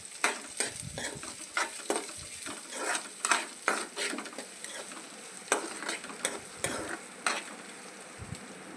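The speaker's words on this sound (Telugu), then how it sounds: "ఆనియన్స్ ఫ్రై అవుతూ ఉన్నాయి" Onions fry in oil in a pan under a soft steady sizzle, while a spoon scrapes and stirs the pan in a rapid irregular series of sharp strokes up close.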